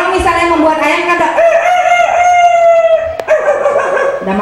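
A person's voice imitates a rooster's crow in one long, loud, drawn-out call, delivered alone during a storytelling workshop for kindergarten teachers.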